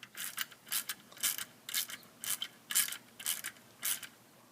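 Ratcheting clicks from tightening the bolt on a bracket clamp while installing a DayMaker adapter bracket on a Honda Valkyrie, about eight close, evenly spaced bursts with no talk.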